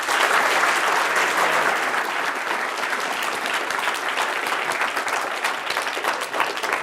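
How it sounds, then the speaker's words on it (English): A large audience applauds at a Stanford lecture hall, steady dense clapping that stays even and full throughout with no voices on top. "so let's give him a round of applause"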